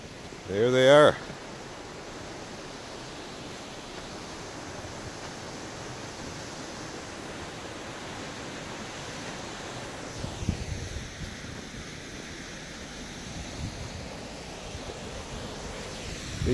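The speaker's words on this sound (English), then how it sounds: "These are the Minnehaha waterfalls." Minnehaha Falls in winter: a steady roaring rush fills the air, constant and broad, with a brief voice near the start and faint wind buffeting later.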